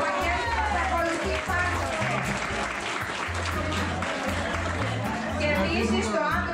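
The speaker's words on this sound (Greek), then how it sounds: "στον κύριο Βαγγέλη Λουκίσα, ένα δυνατό χειροκρότημα" Audience applause for Vangelis Loukisas at a village association pie-cutting event in Livadia, a steady wash of clapping with crowd murmur running the whole time, loud and close, with a voice over it.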